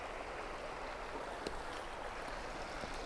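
A small stream flowing through a marsh in brushy wetland, a faint, continuous watery rush with no other distinct sounds and no talk.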